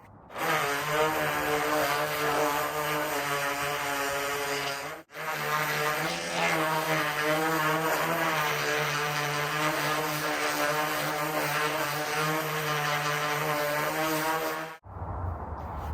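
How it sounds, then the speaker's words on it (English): An electric sander works an antique shiplap board, giving a loud, steady motor whine with a gritty rasp. It cuts out briefly near the middle, runs on without a break, then stops just before the end. "This sanded better than any other one I've sanded so far."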